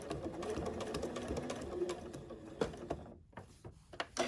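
A sewing machine stitches across the bottom of a zippered pillow cover, a quiet, close mechanical whirring that runs steadily and then breaks into short bursts and clicks near the end.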